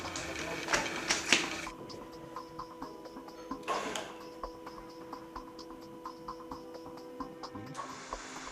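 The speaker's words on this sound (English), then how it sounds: "Now connect the machine to the mains and check the direction of rotation of the motor." The motor of a BDS AutoCUT 500 weld bevelling machine runs with a steady mechanical whine and a light, regular ticking. Louder clattering bursts come near the start and in the middle.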